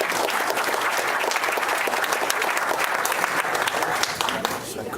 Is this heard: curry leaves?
no